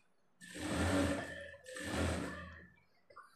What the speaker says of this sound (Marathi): अशा प्रकारे आपण इथे स्टिच टाकून घेत आहोत